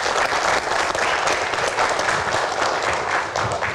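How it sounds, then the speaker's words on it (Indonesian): Audience applause at an Indonesian town hall event as the Jakmania chairman is called onstage, a dense, loud, steady wash of many hands clapping throughout. "boleh tepuk tangannya"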